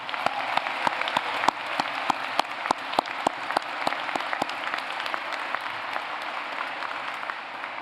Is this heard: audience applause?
yes